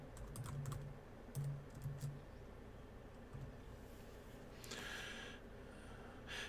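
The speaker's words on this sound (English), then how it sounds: "I'm going to have to put in my password here." A few quick bursts of keystrokes on a computer keyboard as a password is entered, soft close clicks separated by pauses over a quiet room hum, with a brief breathy sound later.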